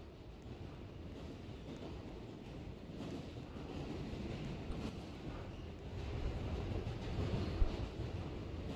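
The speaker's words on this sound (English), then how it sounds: "Those trains are so slow." A steady low rumble of trains rolling slowly along in a video game, with a continuous broad roar and faint wind-like noise, no voices.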